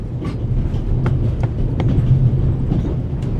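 Aboard the Orient Express in The Raven game, a train rumbles steadily with a low, droning roll and periodic rhythmic clacks of wheels over rail joints, loud and close from inside the carriage.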